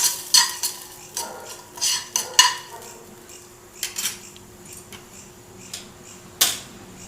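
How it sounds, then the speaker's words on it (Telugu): Cumin, mustard seeds, urad dal and chana dal tempering in hot oil, heard as light scattered clinks and stirring taps of a utensil against a pan, with soft crackle underneath and one sharper clatter near the end. "వీటిని కొంచెం దూరగా వేయించుకుందాం తాలింపును."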